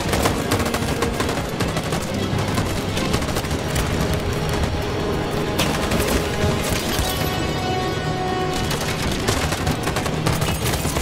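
Continuous gunfire in the video game Detroit: Become Human, dense rapid shots and bursts running loud and steady throughout with no pauses.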